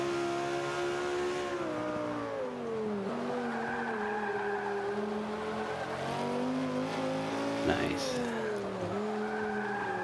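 A 2005 Honda NSX in the Forza 5 racing game drones at steady engine pitch, dropping and rising through braking and corners with tire squeal, while someone comments briefly over it.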